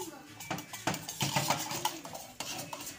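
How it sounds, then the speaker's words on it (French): Palm nut sauce for muambe with smoked salted fish being stirred in a pot, a spoon scraping and knocking against the metal in a steady irregular rhythm, close by, with faint talk underneath. "Je vais remuer"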